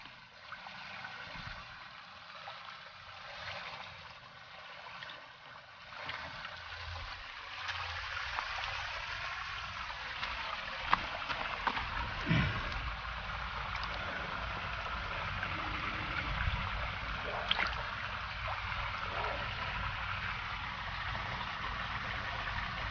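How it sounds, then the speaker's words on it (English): Water draining out of a koi pond skimmer, a steady trickling, gurgling flow with a low rumble beneath it, moderately quiet and continuous, growing slightly louder toward the end. "while I'm waiting for the water to drain out from this skimmer and the pond"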